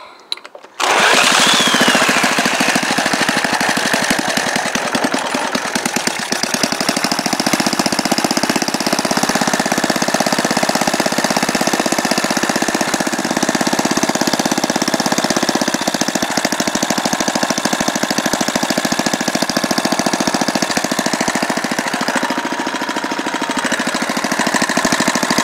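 A mystery engine running with no spark lead fitted, a loud, continuous rattling and knocking drone that holds steady, unbroken, for about twenty-five seconds with no talking.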